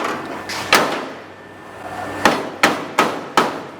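A hammer strikes the metal of a custom gasser front frame during fabrication, five sharp ringing blows: two spaced apart, then three in a quicker row near the close, each decaying quickly in a quiet workshop.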